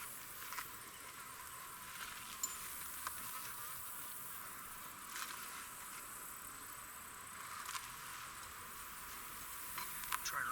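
Honeybees buzzing around an open hive frame during a colony inspection, a faint, steady hum throughout with a few soft knocks.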